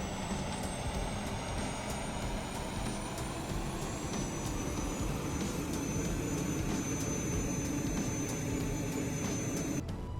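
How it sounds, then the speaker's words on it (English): An Airbus A380 auxiliary power unit spins up in Microsoft Flight Simulator 2024, giving a steady, loud turbine roar with a high rising whine held throughout and no voices. "We now switch on the accelerated processing unit and wait until it starts up."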